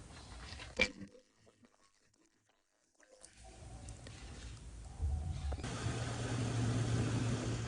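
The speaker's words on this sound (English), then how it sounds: "There we have the vehicle already working, with its lines connected, that is, it works with the fuel that comes from the tank" A Jeep Cherokee XJ engine, freshly fitted with cleaned injectors and running on tank fuel, rumbles low and steady at idle, starting faint after a short knock and quiet gap, then growing louder and continuous.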